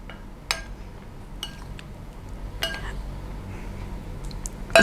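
A spoon clinks against a bowl while salt and red chili powder are mixed into sifted gram flour: a few sharp metallic taps spaced apart over a soft, continuous scraping background.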